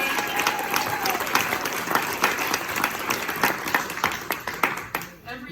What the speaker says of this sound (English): Let's have a round of applause for Louder Than a Mom